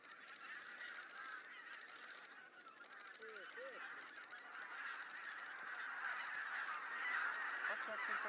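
Geese honk continuously while a Dalmatian pelican chases them by the water, the calls steady and fairly loud throughout and swelling toward the end.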